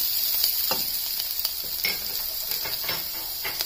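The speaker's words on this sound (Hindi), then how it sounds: "उसके बाद प्याज डालेंगे। और इसको भूनने देंगे।" Chopped onions fry in a pan for semolina upma, a continuous close sizzle with light scraping stirs and small clicks scattered through it, no one speaking.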